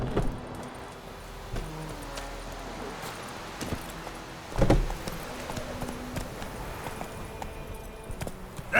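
Hooves of Roach, the horse in The Witcher 3, clip-clopping in a steady rhythm at moderate distance, with a louder thud midway and faint game ambience behind.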